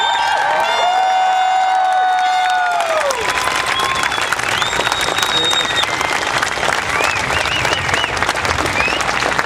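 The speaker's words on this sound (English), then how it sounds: "Ladies and gentlemen, please give a round of applause for your 82nd Airborne Division." A crowd gives a long round of applause and cheering for the 82nd Airborne Division at a centennial review ceremony, steady and loud throughout, with some whoops rising over the clapping.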